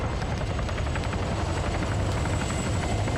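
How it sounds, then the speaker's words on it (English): A helicopter in a video game comes under fire, its rotor throbbing continuously and loudly throughout, with faint impacts in the mix and no talking. "Again, firing at the helicopter."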